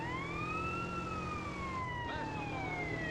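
Police car siren in the mobile version of GTA San Andreas, a loud, continuous wail whose pitch rises and falls slowly, with a second overlapping siren tone joining near the end.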